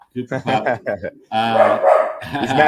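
A dog barks in short bursts, then gives a longer, strained whining bark, loud and close, with people talking in the background.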